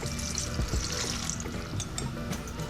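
Water pours steadily in a continuous rushing stream, fairly close and loud, with no talking.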